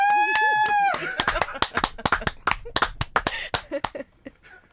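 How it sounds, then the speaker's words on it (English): A single person's slow clap gives sharp, separate hand claps that start spaced apart and then quicken, heard close and mixed with people talking and laughing. "I was a bit off my game with that slow clap"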